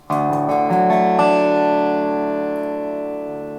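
A few quick strums on a Beard guitar in open D tuning at the start, then an open chord rings out and slowly fades, bright and close with no talking.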